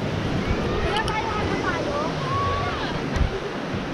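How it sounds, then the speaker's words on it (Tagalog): Strong surf on a beach at Liw-liwa, San Felipe, Zambales, rushes and crashes continuously with wind buffeting the microphone, a loud wash of water noise throughout. "sobrang lakas ng alon"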